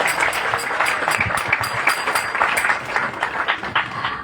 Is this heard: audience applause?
yes